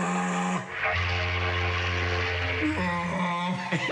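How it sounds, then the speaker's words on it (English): Trapped air vibrating in old bathroom pipes, a sustained tonal moaning hum that shifts pitch and wavers eerily, steady and fairly loud over four seconds with no talking. "they can vibrate quickly, creating a creepy moaning sound like this."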